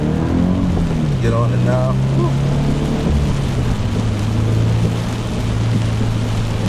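A Scion FR-S drives on a rain-soaked road with puddles and the window down, tyre hiss and wet spray rushing steadily beneath a low engine drone, while someone talks over the noise.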